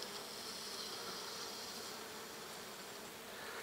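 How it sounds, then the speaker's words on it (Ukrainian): Steady, continuous buzzing of bees, a dense hum that holds evenly throughout with no talking, like many insects working close by. "Бджола вся ось тут."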